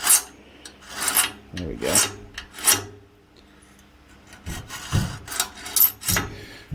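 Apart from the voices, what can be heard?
scoring a metal sheave prototype by hand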